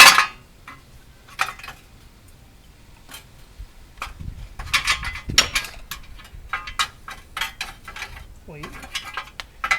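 A 10mm wrench clinks and ratchets against metal while a heat shield is removed under a 2005 Dodge Hemi Durango, close and irregular, sharp metallic taps and scrapes in uneven bursts with quiet gaps between.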